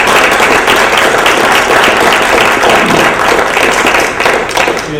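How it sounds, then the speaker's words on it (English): A conference audience applauds its forum panelists with dense, loud, continuous clapping that fills the room, steady throughout and only tapering slightly toward the end. "if we could just give a round of applause for our panelists."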